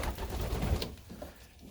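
Young pigeons coo softly in an aviary, low murmuring calls close by and steady through the moment with no talking.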